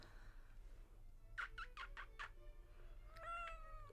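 A domestic cat indoors gives a quick run of four or five short chirping calls, then a longer drawn-out meow, close and clear over a low steady hum.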